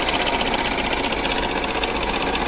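A Jeep Compass with a faulty alternator bearing makes a loud, steady mechanical drone and rattle from the right side of the engine while it idles, with no pause in the sound.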